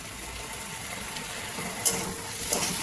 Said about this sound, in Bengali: সয়া সসটা দিয়েও আরেকবার খুব ভালো করে এটাকে নাড়িয়ে নিয়ে